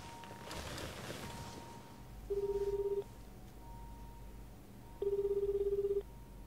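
A telephone in the video game Judge Eyes rings in two short electronic bursts, each about a second long, separated by quiet, over soft game ambience.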